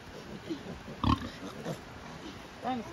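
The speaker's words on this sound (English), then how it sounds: "they got the pigs trained" Pigs on a farm give short grunts and snorts, one louder burst standing out, while people talk nearby.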